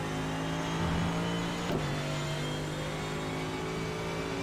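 Mercedes AMG GT3 race car engine at full throttle on the Silverstone circuit in iRacing, a loud steady drone holding high revs throughout, with a brief pitch dip around a gear change midway.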